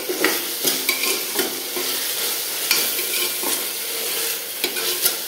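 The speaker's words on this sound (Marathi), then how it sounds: "आपला कांदा चांगला परतलाय," Onion sautés loudly in a pan with turmeric and salt for chicken biryani. A constant sizzle is broken by repeated spoon scrapes and taps against the pan.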